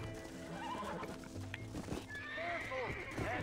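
A horse in Red Dead Redemption whinnies in several rising, quavering calls while hooves clop underneath, with game-like effects layered over a busy background.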